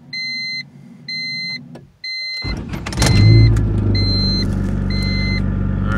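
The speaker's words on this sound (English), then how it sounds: "I'm gonna start the car right now." Inside a car, a chime beeps in a regular pattern, then the engine cranks and catches with a loud surge that settles into a steady idle rumble while the beeping continues faintly, close up and without talk.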